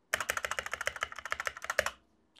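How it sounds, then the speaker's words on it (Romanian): Rapid typing on a modified mechanical keyboard, a steady run of crisp, close keystrokes that stops after about two seconds. "Și modificată ajunge să sune așa."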